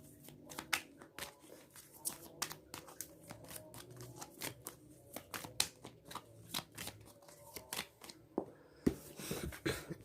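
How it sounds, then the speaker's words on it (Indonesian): Tarot cards are shuffled by hand in a long run of crisp riffles and flicks, close and distinct, with a brief denser burst of shuffling near the end; no talking. "Kita shuffle kartunya"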